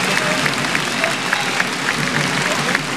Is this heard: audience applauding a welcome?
yes